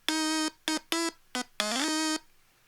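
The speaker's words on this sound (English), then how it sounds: "we're going to be exploring the sounds of this cute little instrument called the Stylophone" A Stylophone's buzzy, reedy electronic tone plays a short run of notes, a few brief stabs then a longer note with a quick slide, alone and close.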